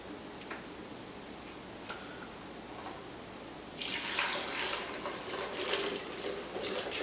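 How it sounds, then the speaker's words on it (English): Brewed loose-leaf detox tea is poured off through a strainer, a soft trickle that swells into a steady splashing stream partway through, preceded by a few faint clinks. "Just draining the teas."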